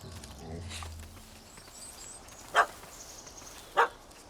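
A dog barks twice in a village scene in The Witcher 3: Hearts of Stone, two sharp separated barks at moderate distance over quiet ambience, after a voice and low rumble early on.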